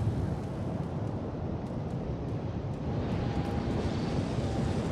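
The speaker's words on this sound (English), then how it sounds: "Maybe I should turn on my AA there and shoot down that last plane" A continuous, dense aircraft engine roar fills a naval battle in the World of Warships game, rumbling steadily with no clear rise or fade and no talking.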